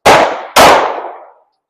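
Two loud gunshots about half a second apart at a shooting range, from a rifle fitted with an ALG trigger, each crack decaying with a short echo.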